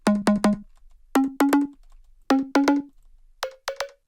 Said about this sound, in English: we can use, for example, a cowbell, which like most of the time works well